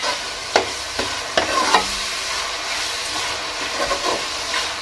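Onions and tomatoes fry with ginger garlic paste, a soft continuous sizzle broken by a few scraping stirs early on, close but fairly quiet, with no one talking.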